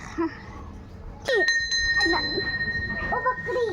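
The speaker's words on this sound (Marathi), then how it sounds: "घंटी वाजवायची घंटी" A temple bell rings once with a bright, lingering metallic tone, while voices talk nearby and a child chatters around it.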